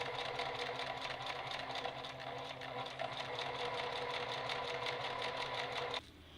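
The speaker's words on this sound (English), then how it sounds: "pin the facing to the curtain piece and sew them together along the top edge" A sewing machine stitches curtain fabric for a minivan camper van, running in a fast, steady mechanical whir for about six seconds before stopping abruptly, leaving a quieter hum.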